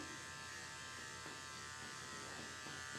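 Andis 5-speed dog clippers fitted with a 10 blade buzz steadily and close at hand while grooming a Yorkie, with a constant hum that never pauses.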